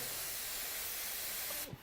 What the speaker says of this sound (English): I higher the pressure and I'm able to spray these little tiny dots just to give the sparkle effect